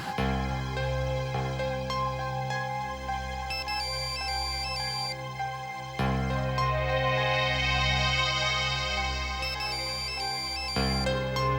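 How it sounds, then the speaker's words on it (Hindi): A melodic phone ringtone plays continuously and loudly, its repeating tune pausing briefly around the middle before starting again, with no voices. "come on Pancham, pick up the phone"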